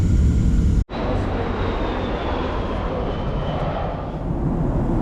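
Southwest Airlines Boeing 737-7 in flight on low approach over downtown San Diego toward runway 27, a loud steady cabin roar of engines and airflow, briefly cut off near the start and then continuing evenly throughout.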